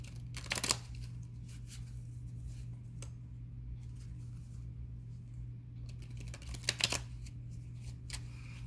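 Tarot cards are shuffled in quick riffling bursts near the start and again later, with soft card handling in between over a steady low hum, quiet and close.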